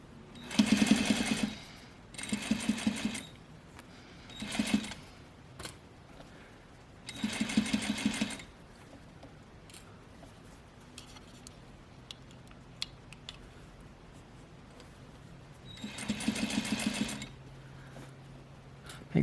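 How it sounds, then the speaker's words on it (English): A sewing machine stitches fabric down on a garment's continuous bound placket, running in about five loud, steady bursts of rapid mechanical whirring separated by quieter pauses. "I'm going to sew it down."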